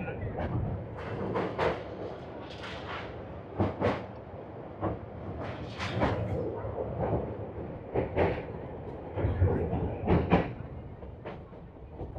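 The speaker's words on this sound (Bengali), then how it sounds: "আমাদের ট্রেন ছেড়ে দিয়েছে বহরমপুর কোর্ট স্টেশন থেকে" A passenger train running on the rails near Berhampore Court station in Murshidabad rolls along with a steady rumble and irregular clattering wheel knocks from the carriages throughout.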